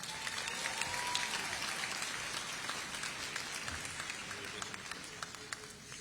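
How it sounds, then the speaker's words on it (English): A graduation audience at a high school commencement applauds teachers and staff, a dense, sustained wash of clapping from many hands that gradually thins toward the end. "So please give them a round of applause."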